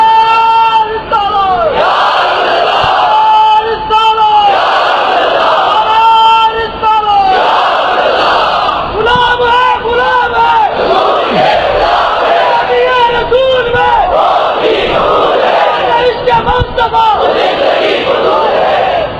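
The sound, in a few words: crowd chanting religious slogans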